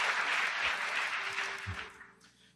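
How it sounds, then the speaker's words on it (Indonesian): A congregation at a Pentecost church service applauds the worship leader, singers and musicians, a loud dense wash of clapping that fades out over the last second. "Boleh tepuk tangan buat worship leader, singers, dan para musicians."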